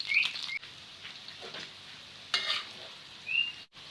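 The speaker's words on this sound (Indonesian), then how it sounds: "Kita goreng sampai garing ya." Noodles frying in hot oil until crisp, an uneven sizzle with bursts of crackle and occasional stirring scrapes and squeaks, close up and fading between bursts, with no voices.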